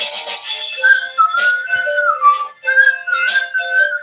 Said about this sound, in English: We're almost to the part of where I start to whistle.